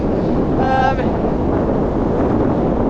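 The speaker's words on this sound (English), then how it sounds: "it's a little bit windy at the moment" Steady, heavy wind buffeting the microphone on the Isle of Skye, a constant low roar throughout with a brief faint tonal whistle early on.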